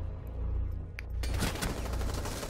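Automatic gunfire in Rainbow Six Siege, a dense sustained burst that starts partway through and keeps roaring loud to the end, over quieter game noise at the beginning.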